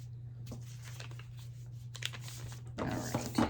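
Fabric cut out for leggings with scissors or a cutting tool, in scattered crisp snips and rustles, close and fairly quiet over a low steady hum, growing busier and louder near the end.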